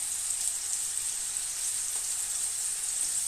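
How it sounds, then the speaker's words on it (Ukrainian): Meat sizzles steadily in a hot frying pan, cooked Hungarian-style and seared on both sides, a constant bright crackling hiss with no talk. "Так, обсмажуємо з двох сторін."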